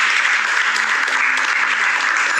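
A studio audience on a Macedonian game show claps for contestant Biljana, with steady, dense applause continuing evenly throughout, loud and close, with no voices rising above it.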